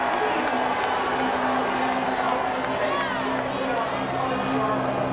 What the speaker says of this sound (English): Mixed emotions out of the crowd.